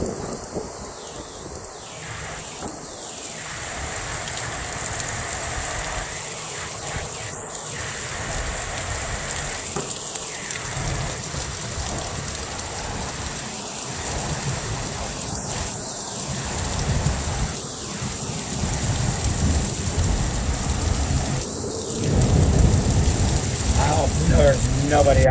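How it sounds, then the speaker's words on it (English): Torrential rain pours down during a nasty windy storm, a dense continuous hiss with low rumbles of thunder underneath, building louder toward the end, with scattered brief bursts of sound cutting through the downpour. "This rain is just, it is torrential."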